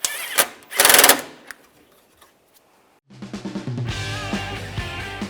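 A power tool tightens a bolt on a front bumper bracket of a 2014-2019 Toyota Corolla: a couple of sharp bursts, a quiet pause, then a steady rattling whir to the end.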